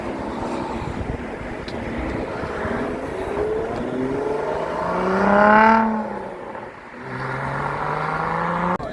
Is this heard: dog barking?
no